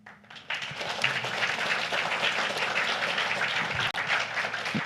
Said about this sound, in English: We applaud you for that.